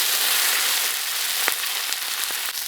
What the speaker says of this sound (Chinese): 辣椒下锅